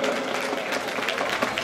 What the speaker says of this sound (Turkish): Alkışlayalım bayanları.